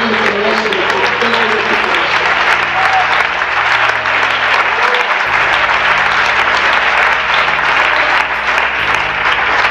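A church congregation bursts into prolonged, loud applause during a sermon, a dense continuous roar of many hands with faint voices and music blended beneath.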